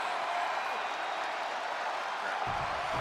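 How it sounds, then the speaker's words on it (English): Arena crowd noise from WWE 2K25 during a steel cage match, a steady dense roar of cheering, close and constant, with a low thump near the end. "And this crowd is more than ready."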